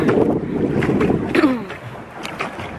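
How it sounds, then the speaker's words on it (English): Wind gusts roar across the microphone on a pedal boat out on the water, a loud, rough rush with brief voices breaking in over it. "This wind blowing."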